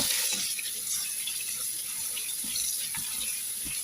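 Sliced vegetables rinsed under a running kitchen tap, a steady broadband rush of water with soft splashes and occasional clinks, continuous and fairly close throughout.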